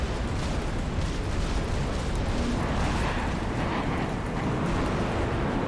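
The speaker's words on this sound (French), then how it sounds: "Je vois des explosions là." Explosions during space combat in the Star Citizen video game, a continuous loud, dense roar of blasts and rumbling detonations that runs steadily with no pauses.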